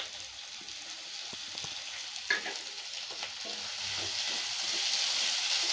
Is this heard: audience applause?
no